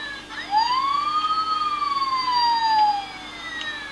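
An Optimus Prime toy plays its electronic siren sound effect, a rising and falling wail that sounds loud and close and is heard without any talking.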